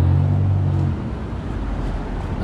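An Uber car pulls up on a Chicago street, its engine giving a deep rumble that eases after the first second into a steady, moderately loud idle with road noise.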